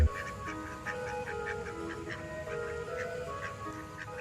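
A duck in Lodhi Garden, Delhi, quacks steadily and close by in a rapid run of nasal calls, with park ambience beneath and no speech.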